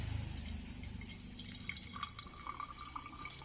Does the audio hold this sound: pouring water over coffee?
yes